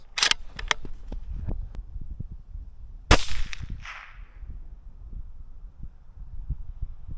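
Pistol shots fired on a range during a UK shooting test: a few sharp cracks near the start, then one louder close report around the middle with a brief ring-off, followed by quieter background noise.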